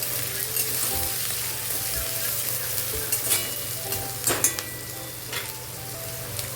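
A large chopped onion frying in a pan for masala egg curry, a dense close sizzle with intermittent scrapes and taps of a spoon stirring, steady and loud.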